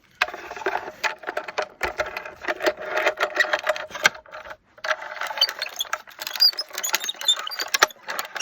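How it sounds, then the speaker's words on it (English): Small desktop mini maker die-cutting machine running a die through shiny cardstock, a close grinding, rattling mechanical whir in uneven bursts with a brief pause midway, no talking. "I'm just going to grab my little mini maker here and die cut this"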